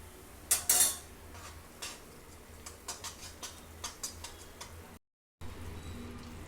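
Mysore pak mixture being stirred in a pan on the stove, with scattered light metallic scrapes and clinks of a utensil against the pan, close and irregular, over a faint steady hiss, with no talk.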